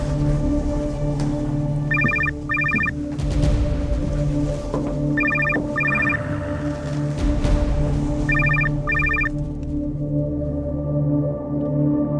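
A telephone rings in three double bursts spaced a few seconds apart, clear and fairly close over a steady low indoor hum, with no talk.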